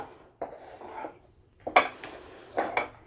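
A spoon scrapes and clinks against a pan as roasted peanuts are stirred into melted jaggery with the heat off, in a few sharp bursts separated by quieter pauses.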